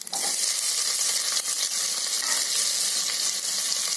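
Onions frying in a pan, a dense, continuous loud sizzle and crackle held steady throughout, close and with no voices.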